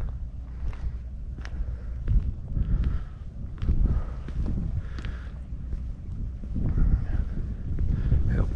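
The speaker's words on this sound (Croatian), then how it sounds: "lagano puše bura." Light bora wind on open ground near a construction site, rumbling steadily across the microphone in soft, uneven gusts, with faint scattered knocks and no speech.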